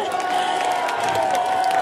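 An audience applauds at an outdoor autumn concert, a dense burst of clapping and crowd noise mixed with a sustained voice or tone, brief and loud throughout.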